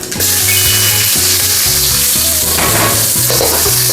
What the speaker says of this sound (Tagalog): Sabay lang po natin siya hanggang maging translucent po ang ating sibuyas.